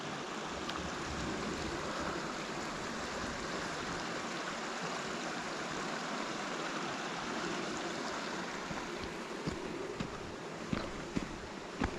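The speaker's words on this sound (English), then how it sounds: "listen to the sound of the water trickling" Water trickles steadily along a stream in a quiet valley beside a road, a soft continuous babble close by with a few faint clicks near the end and no voices.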